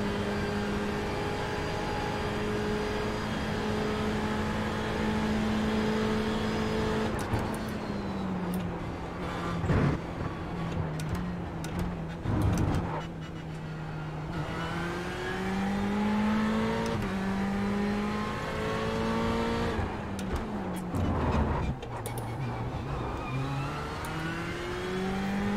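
Race car engine running at steady revs through a Le Mans practice lap, a loud continuous drone with shifting pitch and brief dips under braking and downshifts, close and alone.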